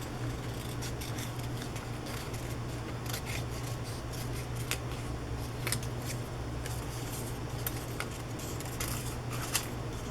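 Scissors snip through paper and sturdy cardstock for a journal project in a quiet room, giving a steady run of close, soft crisp cuts with sharp clicks scattered through, and no voices.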